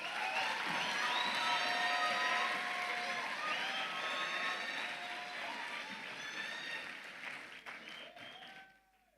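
Audience applause at a ceremony, a dense sustained clapping crowd with scattered cheers and shouts, loud at first then gradually thinning and fading out near the end.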